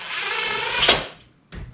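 A power drill whirs as it drives a screw into a damaged garage door, with a steady motor whine rising briefly before stopping, then a short burst of drilling resumes after a pause.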